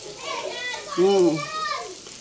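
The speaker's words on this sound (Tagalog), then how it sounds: "yung maingay na bata, yung mga naglalaro sa harapan bahay" Noisy children play out in front of a house, their high voices shouting and chattering close by in an overlapping, lively jumble with a brief louder call in the middle.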